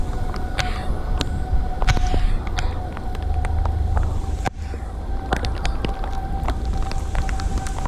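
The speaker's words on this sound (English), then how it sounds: "There go sirens blaring." Sirens wail steadily in the distance during a tornado-warned spring storm in the Carolinas, a thin sustained tone held under constant rain and scattered sharp drips.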